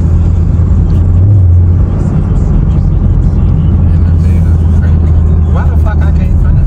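A Dodge widebody Scat Pack rumbles nearby with a loud, steady low engine drone that fills the whole stretch, while people talk over it.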